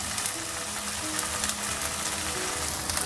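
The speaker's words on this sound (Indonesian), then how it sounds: "goreng tahu sampai kurang lebih sedikit kekuning-kuningan" Tofu fries in a pan of hot oil, giving a steady, dense sizzle with fine crackling throughout, close and alone.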